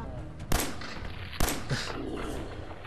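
Two sharp gunshots ring out in Fallout 4, fired at an enemy's kneecaps, each a loud crack about a second apart, followed by a smaller thud over a steady game background.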